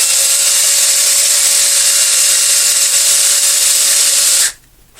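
A steady, high-pitched whine of a power drill running continuously up close, cutting off abruptly near the end into quiet.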